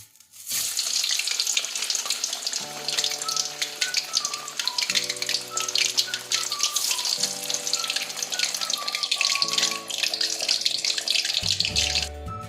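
Steady sizzling of tapioca-flour tofu frying in hot oil, loud and continuous, with soft melodic music playing underneath.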